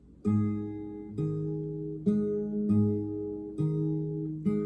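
Fingerpicked guitar strings ring out in a slow, even pattern of single plucked notes, each one sustaining into the next, with no voices.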